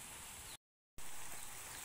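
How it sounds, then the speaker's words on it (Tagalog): Overnight rain falls on an outdoor drum and surroundings, a soft steady hiss at low level that cuts out briefly and returns slightly louder. "Ulan, bagdamag po na ulan."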